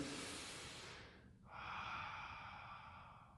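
Close, slow breathing during a hamstring stretching routine: a long, deep exhale fades out, then a brief pause is followed by a drawn-in breath with an airy, slightly nasal hiss.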